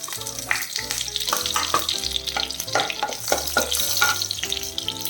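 Fenugreek seeds and curry leaves sizzle and crackle in hot oil, a dense close frying hiss dotted with sharp pops and a stirring scrape, continuous throughout.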